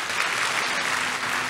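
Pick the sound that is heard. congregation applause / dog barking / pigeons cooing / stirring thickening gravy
congregation applause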